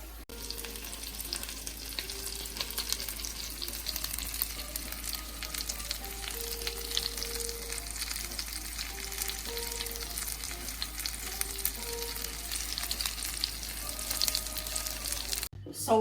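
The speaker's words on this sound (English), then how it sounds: "I'm not gonna touch these turkey burgers for at least 3 or 4 minutes. Otherwise, they will stick to the pan." Turkey burgers fry in a pan with a continuous close crackling sizzle that stays even and dense throughout, with faint background music tones beneath and a brief dropout near the end.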